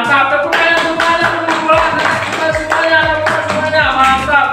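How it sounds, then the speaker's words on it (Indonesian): A primary school class claps together in a classroom after a group presentation, a brisk rhythmic burst of many hands, fairly close, mixed with children's voices. "Tepuk tangan semuanya"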